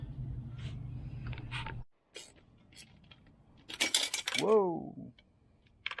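Tools fly and clatter in a burst of metallic impacts during a Weber carburetor swap on a Mitsubishi Jeep, following a quiet low hum and a brief exclaimed voice, with a ringing scrape trailing off.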